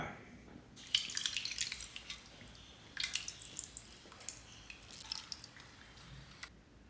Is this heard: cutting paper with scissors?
no